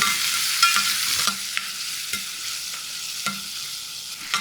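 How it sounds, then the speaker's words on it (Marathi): Curry leaves and finely chopped onion hit hot oil with asafoetida, mustard seeds and cumin for Maharashtrian pithla, giving a loud, continuous close-up sizzle broken by a few scraping stirs of the pan, with no voices. "हिंग लगोलग कढीपत्ता आणि बारीक चिरलेला कांदा मिसळून घेऊया"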